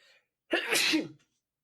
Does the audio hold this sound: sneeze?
yes